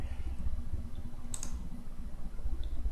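Computer mouse clicks during a System Center Service Manager 2010 SP1 software installation, a few faint separate clicks over a steady low hum of background noise.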